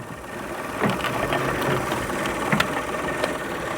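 A jump-started car engine idles quietly after a booster start on a flat battery, a steady low rumble with faint clicks and knocks, no talk over it.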